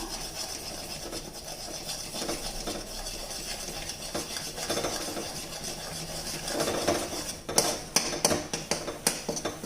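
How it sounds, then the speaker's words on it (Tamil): Spoon scraping and stirring ragi flour with sesame seeds and curry leaves in a pan, a continuous close rasping with a few sharper knocks near the end. "கொஞ்சம் கொஞ்சமாக மாவு போட்டு கட்டி தட்டாமல் கிளறணும்"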